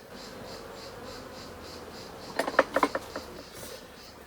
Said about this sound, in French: je vais reposer la hausse dessus et les abeilles vont venir